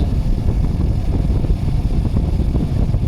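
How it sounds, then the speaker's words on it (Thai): The air conditioner fan of a Toyota Vios car blows hard at speed 4 from a dash vent, a loud, steady, low rushing whoosh with no pauses. "เปิดพัดลมมาที่สปีด4ค่ะ แรงลมที่ออกมาก็ได้อยู่ที ่20-21กิโลเมตรต่อชั่วโมง"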